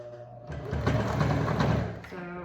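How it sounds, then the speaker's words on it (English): A sewing machine runs a short back stitch on a fabric crossbody phone bag, a close mechanical whirring burst lasting about a second and a half, with a low hum before and after. "So I'm just gonna back stitch right there"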